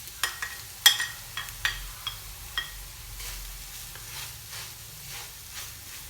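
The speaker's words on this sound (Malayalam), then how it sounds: "ഇനി ഇതിലേക്ക് നമ്മൾ നേരത്തെ ഗ്രേറ്റ് ചെയ്ത് വെച്ച ഉരുളക്കിഴങ്ങ് ഇടുക." Grated potato dropped into a pan of masala for an easy Iftar snack, frying and being stirred: a few sharp scraping clacks of a spoon over a soft, steady sizzle, fairly close with no talk.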